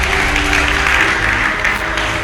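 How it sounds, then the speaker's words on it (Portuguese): A church congregation gives loud, sustained applause, a dense, steady wash of clapping that holds at full volume for a couple of seconds with no break. "Você pode aplaudir para o nosso Deus?"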